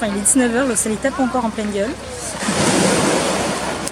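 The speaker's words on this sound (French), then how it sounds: "Vous entendez le bruit des vagues?" Sea waves washing onto the shore at the Cinque Terre coast in the evening, a broad rushing surf that swells up after someone speaks French close to the microphone, with some wind buffeting.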